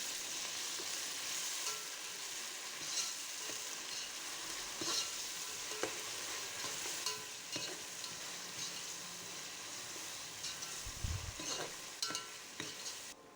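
Ginger garlic paste and chillies sautéing in a pan for mutton dum biryani, with a steady close sizzle and frying hiss. Occasional scrapes and taps of a stirring spoon run through, and a low knock sounds near the end.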